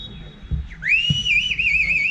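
A single shrill referee's whistle blast at a football match rises and holds with a slight warble for over a second, heard over faint crowd noise and a couple of low thumps.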